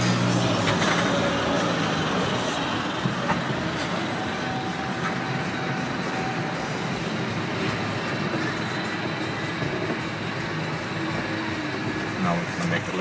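Range Rover Evoque crawling slowly off-road on an urban adventure course in Warsaw, its engine a low, continuous rumble heard from inside the cabin while people talk throughout.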